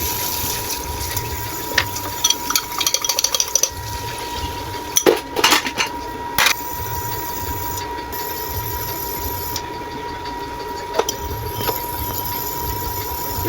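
Soft sausage stirred gently in a pan on a Sunday morning: a steady sizzling hiss broken by a few light clinks of a utensil against the pan.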